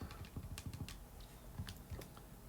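Keys pressed on a calculator during a math lecture on polar coordinates, a quick run of close, light clicks and taps with no talking.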